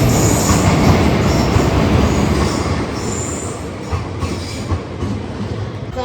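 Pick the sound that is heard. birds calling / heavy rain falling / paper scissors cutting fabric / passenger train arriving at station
passenger train arriving at station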